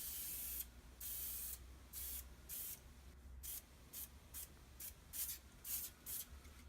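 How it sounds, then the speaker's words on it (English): Repeated short bursts of fine spray hiss from a sprayer misting leather finish onto a surface, in an irregular rhythm, close by, with a low steady hum underneath. "so that I get just a fine mist of the spray onto the surface."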